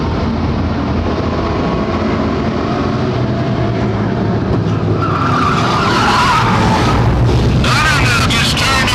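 A stock race car spins around and skids into the wall during an oval race, tire screech rising over a loud, steady roar of racing engines while a commentator talks throughout.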